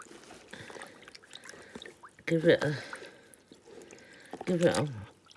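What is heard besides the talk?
scrap fabric being wetted in lukewarm water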